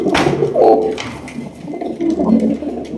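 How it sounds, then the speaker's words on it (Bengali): Golla pigeons at a pigeon seller's stall give a few deep, rolling coos close by, with pauses between the calls and a low background hum. "রয়েছে এক জায়গায় গোল্লা কবুতর"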